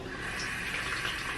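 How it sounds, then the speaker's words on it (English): A small splash of water trickles into Aztec healing clay as a mask is mixed, a soft, steady hiss of liquid running close by without any voice. "I just add a little water."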